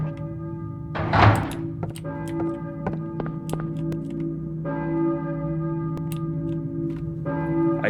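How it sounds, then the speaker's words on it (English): A church bell tolls in the video game Silent Hill, its deep sustained ringing repeating and layered over a heavy thud and sharp clanking game sounds, with no voices. "Who is ringing the bell?"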